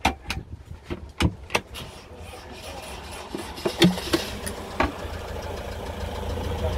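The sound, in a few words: car engine running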